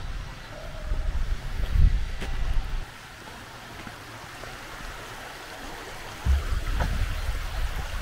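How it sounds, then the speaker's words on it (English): Spring water at Devil's Town in Serbia runs with a soft, steady rushing hiss, heard close and moderately loud, with a couple of low thumps and wind rumble on the microphone. "This would be water coming from the spring."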